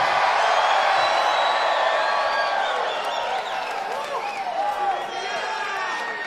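A large crowd cheers loudly and steadily at a rock concert in Denver, Colorado, with whoops and whistles rising above a dense roar that eases slightly midway.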